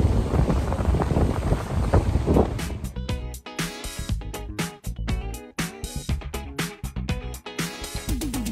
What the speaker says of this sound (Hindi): ठंडी लग रही है, इतनी हवा चल रही है।